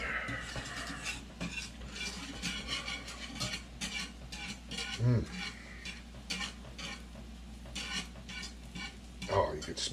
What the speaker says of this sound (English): Just going to stir it